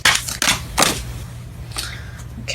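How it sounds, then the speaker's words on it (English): A deck of tarot cards is shuffled by hand in several quick riffling bursts separated by short pauses, close to the microphone, with no talking. "Okay, I'm gonna shuffle one more."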